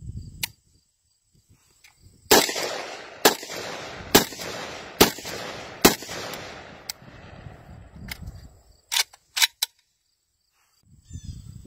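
An Advanced Weapon Systems SPETS 12 shotgun fitted with an Origin 12 V6 muzzle brake, firing high-brass ammunition, delivers a quick string of five loud, sharp blasts about a second apart, followed by a few fainter cracks and clatter.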